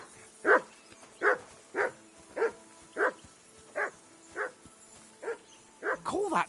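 Dog barking in Kingdom Come Deliverance 2: a steady series of about ten single barks at roughly even spacing, moderately near, with a quick flurry of yelps at the end.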